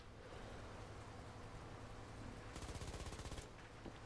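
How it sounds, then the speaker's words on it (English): Machine gun on an SD.Kfz.234/4 armored car in War Thunder ground battle, a short rapid burst of evenly spaced shots under a constant rushing, rain-like background noise, fairly faint and distant. "I love the sound of that MG."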